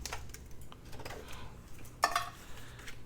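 Cardstock for a notebook card is trimmed on a paper trimmer, heard as faint clicks and taps, then one sharper slicing cut near the middle, all at low volume and with no talk.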